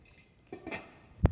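A pot lid set down over a pot of Canton-style noodles cooking with sesame oil, a brief soft scrape followed by one sharp metallic clank near the end, close and alone.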